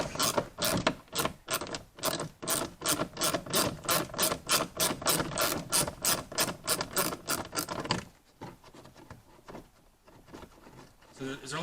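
A ratchet tightens a fastener during an LED light install on a 2020 Ford F-150, with rapid, rhythmic close clicking for several seconds before it stops and fainter handling noise follows.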